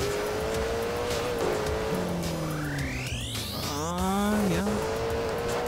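A car in a Garry's Mod race game drives with a steady engine tone, its tires squealing and warbling through a slide with rising and falling pitch, loud and close, with no talking over it.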